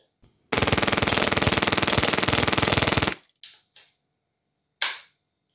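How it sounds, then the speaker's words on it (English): A 3D-printed airsoft gun fires a sustained, rapid full-auto burst of sharp, loud cracks for about two and a half seconds, then a few scattered single shots after the burst stops, with no talking. "that goes into the gun and cycles, and then you can shoot"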